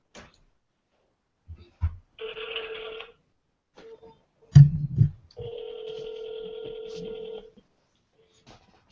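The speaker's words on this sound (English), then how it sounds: "I'm calling you right now." A telephone call plays out: short dialing and ringback tones sound in separate bursts through a handset, broken up by brief handling knocks and near silence.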